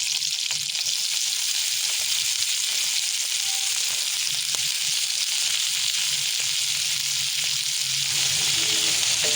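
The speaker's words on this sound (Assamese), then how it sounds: "বিলাহীখিনি অকণমান ভজা ভজা হ'বলৈ দি ইয়াতে মই দি দিম কাটি থোৱা" Tomatoes and palang (spinach) leaves fry in a pan, making a steady, close sizzle that hisses evenly throughout, with occasional faint stirring clinks.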